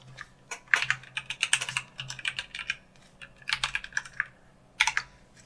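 Keys on a computer keyboard are tapped in quick bursts of clicks with short pauses between them, as a password is typed at close range with no talking.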